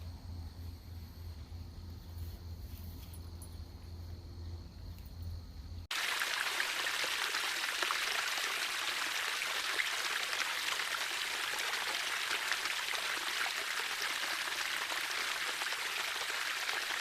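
Flowing river water outdoors at a Unitarian Universalist water ceremony, a steady broadband rush and trickle that starts after a quieter low hum and then continues alone, close and even.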